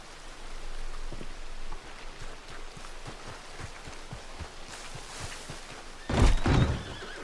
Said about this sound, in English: The horse is agitated and must be calm before you can mount it.